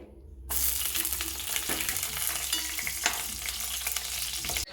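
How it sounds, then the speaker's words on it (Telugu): Green chillies frying in hot oil for a Chinese-style fish curry, a loud steady sizzle that bursts in after a brief quiet start and crackles continuously up close, with occasional sharper pops and no talking. "ఆయిల్ వేడెక్కిందండి ఇప్పుడు పచ్చిమిర్చి వేసుకోవాలి"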